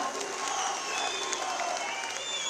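A crowd at an outdoor state celebration fair gives sustained applause to welcome an MLA, dense steady clapping at moderate level, with faint voices mixed in.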